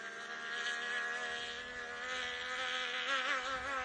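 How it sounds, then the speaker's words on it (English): Three-cylinder two-stroke racing boat engine on the water, a high, buzzing whine with clear harmonic tones that rises and bends in pitch as the boat runs, sustained and moderately distant throughout. "They run a 3-cylinder, 2-stroke engine, so you're going to hear that whine."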